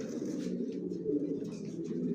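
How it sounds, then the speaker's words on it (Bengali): Johnson line racing pigeons in a loft give low, throaty rolling coos, close and continuous, with faint rustling. "কোয়ালিটি সম্পন্ন কবুতর পালি"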